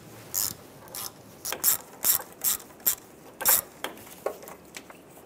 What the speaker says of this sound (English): Now we're going to remove this bolt right here. Use an 8 millimeter socket.